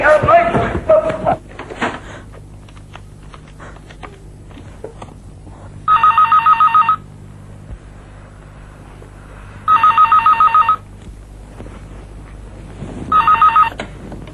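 A telephone rings in three separate bursts of rapid electronic trills, loud and close, after a brief noisy opening and with quiet gaps between rings.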